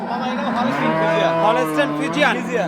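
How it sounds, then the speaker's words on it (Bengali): A big-bodied six-tooth dairy cow at a cattle market in Bangladesh gives a loud, close moo that swells and wavers for nearly three seconds, heard alone without talk. "অনেকটা বিগ বডির একটা গরু"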